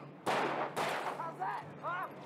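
Gunfire from the Alan Wake video game: two loud, sharp bursts in close succession, followed by quieter tonal effects, with a voice talking over the action.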